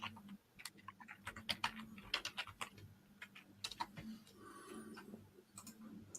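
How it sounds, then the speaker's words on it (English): Quiet keyboard typing, a quick irregular run of soft clicks and taps, close but faint, with no speech. "That was just me typing"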